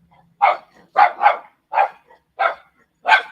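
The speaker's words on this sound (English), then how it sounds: "I hope this dog don't start barking." A dog barks six times in short, loud, close bursts spaced roughly half a second to a second apart, with brief silences between them and no talking.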